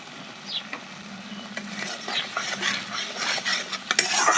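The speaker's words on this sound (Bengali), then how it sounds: "ভালো করে সর্ষেটা একটু কষিয়ে নেব" A utensil stirs and scrapes repeatedly in a pan as mustard paste is fried for a spicy olive barb fish curry, with faint sizzling under the irregular clinks and scrapes.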